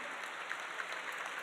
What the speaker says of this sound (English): let's give them a big round of applause for this really cool item